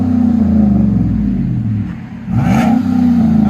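A 2015 GMC Sierra All Terrain Z71 with a 5.3L V8 and Carven R-Series dual exhaust revs loudly up close, a deep throaty rumble that climbs, dips briefly mid-clip, then surges again.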